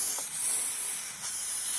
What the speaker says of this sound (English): Spray some more lubricant in.